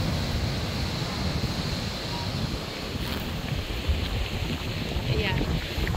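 Ocean waves wash in a constant roar mixed with heavy wind rumble against the microphone, with no clear pauses throughout.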